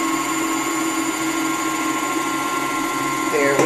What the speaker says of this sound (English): We're gonna start the mixer again.